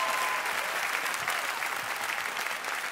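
Large Las Vegas audience at a comedy show applauding steadily, a dense continuous wash of clapping with some cheering, loud and sustained throughout.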